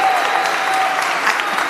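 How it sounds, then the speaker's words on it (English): Sustained applause from an audience at a town hall meeting in Coney Island, a dense, even patter of many hands clapping steadily throughout. "Let's have another round of applause for Mark Traeger."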